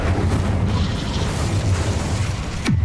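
Incendio fire spell in Hogwarts Legacy, a loud roaring, sustained burst of fiery combat noise with a sharp swooping tone near the end.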